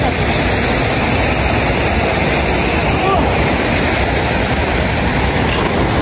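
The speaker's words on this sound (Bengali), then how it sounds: "দেখেন এখানে চমৎকার একটা ঝর্ণা আছে" A waterfall flowing in the hills of Sikkim, a loud continuous broadband rush of falling water heard up close throughout, with some wind buffeting the microphone.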